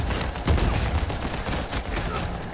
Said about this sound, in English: these guys are shooting me in cover